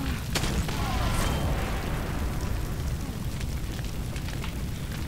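A grenade blast in the video game Far Cry roars as a loud, sustained rumbling explosion, a dense wash of low booming and crackling debris that fills the whole stretch without letting up.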